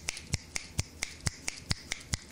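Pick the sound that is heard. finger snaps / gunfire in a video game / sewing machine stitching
finger snaps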